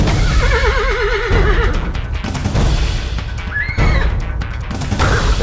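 Horses in a herd neigh and whinny with wavering, high calls, several overlapping in the first second and a second whinny later, over a dense, loud rumbling background with thuds.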